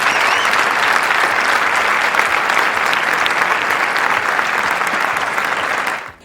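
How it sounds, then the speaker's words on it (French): Sustained, dense applause and acclaim from a large crowd at a public gathering, steady and loud throughout before cutting off abruptly at the end. "ce qui lui a valu d'ailleurs des acclamations"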